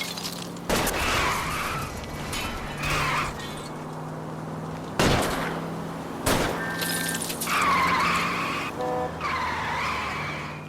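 Cars in an L.A. Noire video game chase skid repeatedly with long screeching tires. Sharp bangs like gunshots and a glassy crash break in between loud engine rushes, and no one speaks.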